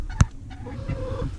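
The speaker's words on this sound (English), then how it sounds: "So this is the group of" Chickens cluck and honk softly outdoors near the coop on open pasture, with one sharp close call near the start followed by scattered low clucks.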